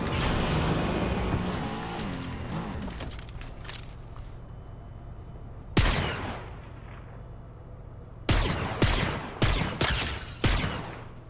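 Gunfire in the video game Fortnite: a single sharp shot, then a quick burst of four or five loud cracks in close succession after a long quieter stretch of game noise.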